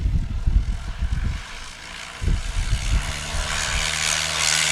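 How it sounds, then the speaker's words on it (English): A STOL airplane at the Pony Express STOL competition in St. Joseph, Missouri, its propeller engine rumbling and roaring at full throttle for takeoff amid gusty wind buffeting, the drone holding steady and rising toward the end. "Time to get our first takeoff of Pony Express STOL in the books with Jeff Abrams."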